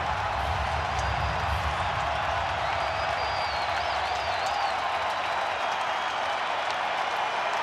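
A baseball stadium crowd at a Mets vs Brewers wild card playoff game roars and cheers in a dense, continuous wash of noise, with a faint whistle rising above the sustained din.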